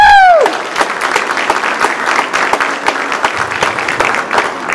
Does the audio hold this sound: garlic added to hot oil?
no